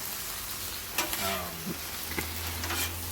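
Green chili shredded pork is mixed in an Instant Pot, a low continuous sizzle broken by a few close scraping and stirring strokes over about three seconds.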